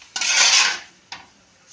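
A spoon scrapes and stirs semiya upma in a metal pot: one longer gritty scrape followed by a shorter second stroke, close and clear with no talking.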